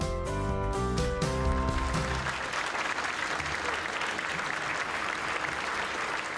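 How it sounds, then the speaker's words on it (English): Sustained audience applause at an awards gala dinner, a dense crowd of clapping hands that swells in over a fading musical chord and then carries on steadily. "A round of applause for Fatty, Sookie, his brothers and all of o"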